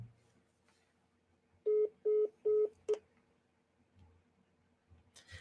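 Telephone keypad dialing for a phone call: three even touch-tone beeps, then a shorter fourth, clear and close against a quiet background.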